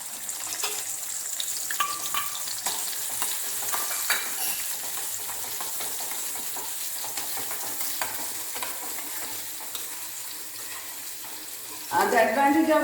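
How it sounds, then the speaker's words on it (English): Small cherry-sized onions frying in a pan for a leafy-vegetable curry, a steady soft sizzle throughout with light stirring clatter, ending in a louder burst of sizzling near the close. "I'll fry the onions here"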